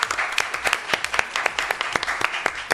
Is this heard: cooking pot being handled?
no